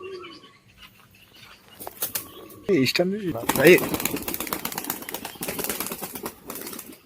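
Racing homer pigeons flap their wings in a burst of rapid, fluttering beats, with a voice and some cooing mixed in nearby.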